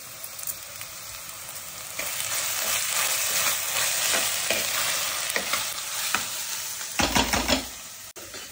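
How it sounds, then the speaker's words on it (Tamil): Ingredients with curry leaves sautéing in a hot pan, a continuous sizzle and frying hiss with repeated scraping strokes of a stirring spoon, close and steady throughout. "நல்லா பச்சை வாசனை போகிற மாதிரி நல்லா வதக்கலாம்."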